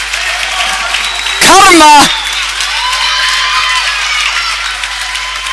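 Handball crowd in an Icelandic first-division playoff between KA/Þór and FH applauding a goalkeeper's save, loud continuous clapping and cheering, with a short shouted voice cutting through near the middle.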